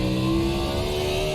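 A Cup Series stock car at Road America in the iRacing simulator, its engine droning loud and steady with a rising tone as it pulls through the gears, no voices over it.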